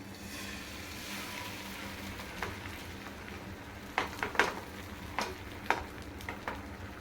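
Egg batter hits a thinly oiled pan over a low flame, giving a steady soft sizzle with a few sharper crackles and spatula clicks in the later seconds, fairly close and without talk.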